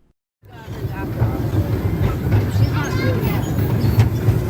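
The Dry Gulch Railroad ride train at Hersheypark, Hershey, Pennsylvania, rumbles and clatters along steadily after a brief silence, with voices chattering in the background.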